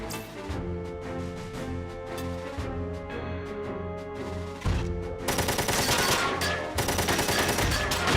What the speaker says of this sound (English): I like that chunky Vulcan noise.